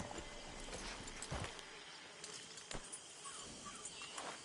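Horse hooves clip-clop steadily in a video game camp scene, a few sharper hoof strikes standing out over a busy, noisy ambience.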